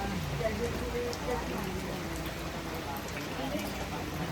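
Steady rain hisses across the whole stretch, a dense, even patter with scattered drops, continuous and fairly close.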